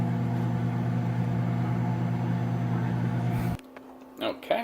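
A microwave oven heats a burrito with pepper jack cheese, its steady low electrical hum droning for about three and a half seconds before cutting off, followed by a few quiet clicks and short tones.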